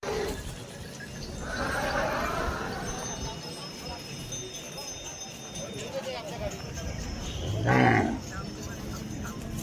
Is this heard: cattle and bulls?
yes